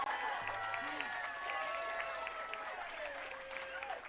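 A crowd applauds at the outdoor Hollywood Walk of Fame ceremony for Mandy Moore, a faint, distant, steady clapping with light cheering beneath a low background hum.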